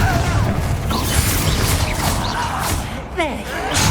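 A Confringo blasting curse in Hogwarts Legacy lands with a crashing, thudding impact among clattering mechanical game effects and whooshing magic, loud and busy, with faint game-character voices mixed in.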